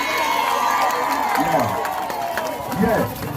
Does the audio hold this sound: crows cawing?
no